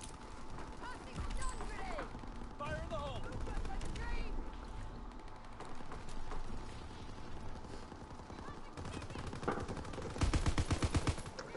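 Gunfire crackles in a World War II zombie-horde video game mode, with scattered shots through the fight and a loud rapid burst near the end. A player talks over the shooting.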